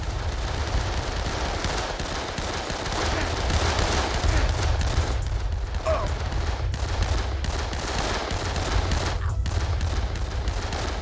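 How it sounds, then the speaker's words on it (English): Dense, sustained gunfire in the video game Dead Island Riptide, a continuous rattling barrage of shots with a low rumble, loud throughout. "Kill him! Come on, shoot him!"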